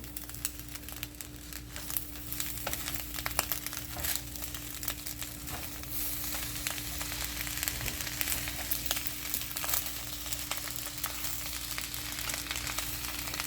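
Chicken fried rice being stir-fried over high heat, a continuous loud sizzle with crackling and rustling as the rice is tossed and mixed in the pan, with no voices.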